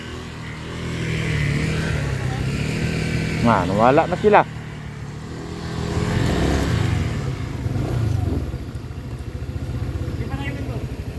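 A Skygo Lance 150 motorcycle rides along a soft, slippery muddy trail toward a beach, its mid-pitched engine droning steadily with brief revs, while someone talks over it.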